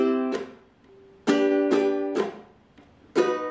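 A ukulele is strummed through a chord progression in a down-down pattern, with sharp, bright chord strikes arriving in pairs and rings decaying between them, close and clear with no talking.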